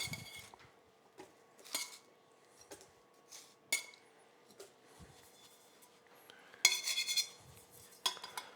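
Charred onions go into a pot to build a braising liquid for barbacoa, heard as a string of soft, close clinks and scrapes of utensils against cookware, irregular and fairly quiet, with a louder clattering burst near the end.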